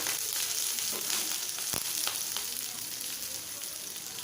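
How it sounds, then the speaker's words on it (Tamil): Dried red chillies and curry leaves sauté in hot oil for a village-style fish kuzhambu, giving a continuous close crackling sizzle with a few sharper pops. "வரமிளகா கருவேப்பில தலை எடுத்து வச்சுருந்தோம் இல்லையா அது போட்டுக்கலாம் லைட்டாக ஒரு ரெண்டு வதக்கு வதக்கிட்டு"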